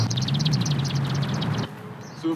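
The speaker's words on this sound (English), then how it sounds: "I just hear all the birds singing." Birds chirp and sing in a city setting with brick buildings and alleys, a quick repeated twittering over a steady low urban rumble that fades out partway through.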